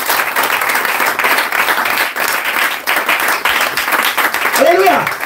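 A church congregation claps and applauds for Jesus during a sermon, steady dense applause throughout with a voice rising briefly near the end.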